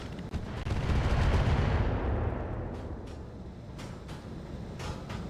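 Heavy weapons fire in the RogueTech mech game as LRM volleys pound and destroy an enemy sniper cannon: a loud, dense rumbling barrage that swells early then trails into scattered sharper impacts, with no talking.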